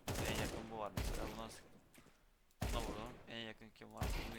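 Gunshots in the video game Counter-Strike 2, a few loud sharp reports heard close, with someone talking over much of it.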